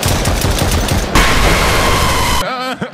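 Loud, continuous gunfire in the Home Alone video game, a dense rapid burst of shots that shifts into a harsher stream partway through, then cuts off abruptly. A faint voice follows at the end.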